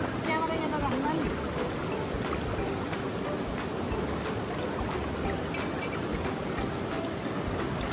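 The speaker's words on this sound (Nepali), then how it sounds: "पानी यस्तो मजाले बगेको छ है" Water flows steadily in an outdoor stream, a constant rushing wash that fills the whole stretch at moderate loudness.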